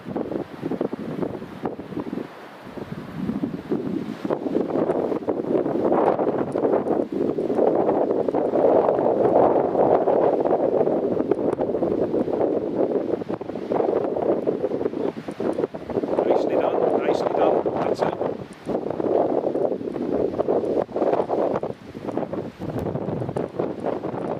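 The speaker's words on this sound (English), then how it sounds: "Gust at the moment, still about 30, 32." Strong, gusty wind at Newcastle International Airport roars steadily across the microphone, loud and continuous with brief lulls, while someone talks over it.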